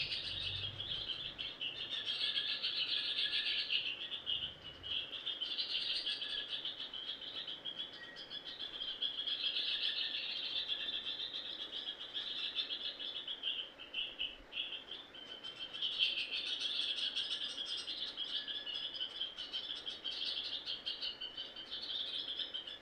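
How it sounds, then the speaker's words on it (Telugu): Small sparrows chirp and twitter steadily in a busy, continuous chorus returning home, fairly close and bright, with no voices over it. "చిన్న చిన్న పిచ్చుకలన్నీ బయటికి వెళ్ళి ఇంటికి వచ్చేసాయి"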